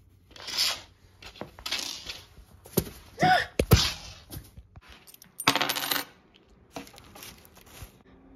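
Coins drop in a video game, giving a series of loud, bright metallic clinks and jingles in separate bursts over several seconds, with quieter rustles and thuds between them.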